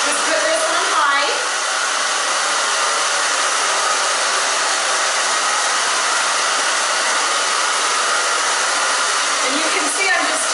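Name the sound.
hair dryer on high blow-drying hair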